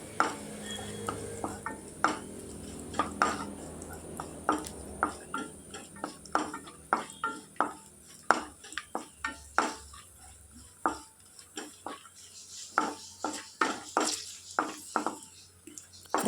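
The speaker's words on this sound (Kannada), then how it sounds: "ಬಾದಾಮಿ 1 ಕಪ್, ಸ್ವಲ್ಪ ದ್ರಾಕ್ಷಿ ಹಾಕಿ ಫ್ರೈ ಮಾಡಿ." Almonds and raisins fry in a pan for an oats payasa, with repeated close clicks, stirring taps and utensil knocks against the pan over a faint sizzle, the knocks coming irregularly throughout.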